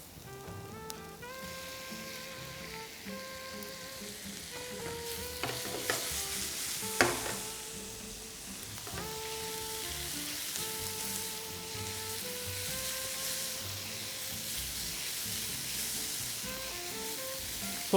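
Marinated chicken and prawns sizzle steadily in a hot pan as they are stir-fried for nasi goreng, with a constant crackling hiss and occasional scraping stirs. Background music plays underneath.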